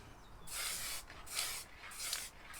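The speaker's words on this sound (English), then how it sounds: "Spray a bit on the top, bit on the bottom there" Aerosol spray paint can hissing in three separate bursts of about half a second each, close and steady, with short pauses between them; no voices.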